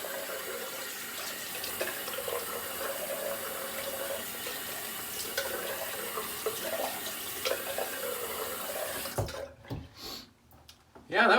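Tap water running steadily into a sink for a cold rinse after a shave, a close, continuous hiss and splash that stops near the end, followed by a few wet splashes and handling noises.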